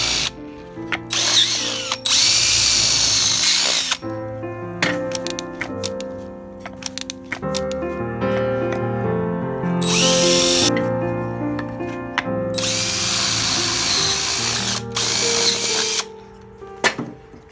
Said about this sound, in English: we just need to drill the holes for holding the J-bolts